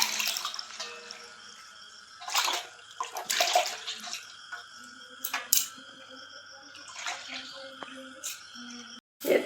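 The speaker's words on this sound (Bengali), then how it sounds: "রসুনগুলো ভালো করে ধুয়ে নেব।" Garlic cloves are washed under water in a kitchen, with bursts of splashing and trickling, clinks and rubbing against a bowl, irregular and close.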